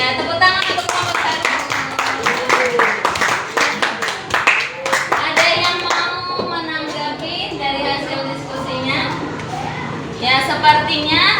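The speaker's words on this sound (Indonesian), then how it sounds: "tepuk tangan untuk kelompok 1." A classroom of children clapping for a group of classmates, quick rhythmic claps near the microphone mixed with children's voices and chatter throughout.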